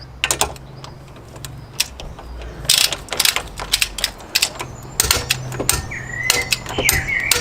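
Hand ratchet tightening car floor mat bolts, loud close clicking in rapid irregular bursts throughout, with brief pauses between strokes and no talking.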